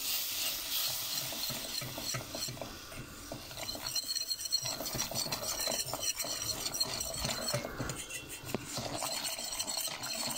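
A spoon scrapes and stirs flour through hot fat in a pan for Turkish bulgur soup, a thick mixture with a soft continuous sizzle underneath and occasional metallic clinks.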